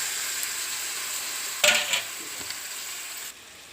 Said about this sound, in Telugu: ఇదిగో చికెన్ శుభ్రం కడిగేసి చికెన్ వేసాను